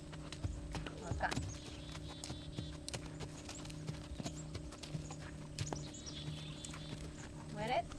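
A horse's hooves clop steadily in a walking rhythm on a lunge circle, close and distinct, with faint tack jingling and background voices during lunging practice.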